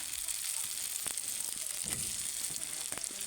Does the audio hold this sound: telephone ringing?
no